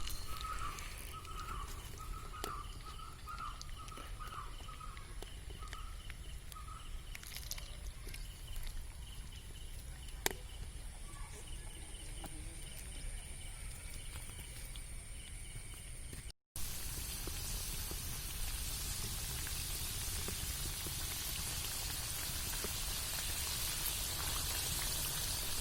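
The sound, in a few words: french fries deep frying in oil, second batch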